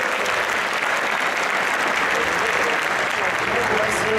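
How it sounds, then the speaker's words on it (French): Sustained audience applause at a Super Street Fighter 2X tournament final, dense and steady throughout, with a crowd clapping loudly and evenly from start to finish. "on l'applaudit"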